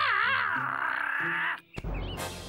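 A bird gives a harsh, drawn-out caw lasting over a second, followed by a brief thud and some rustling.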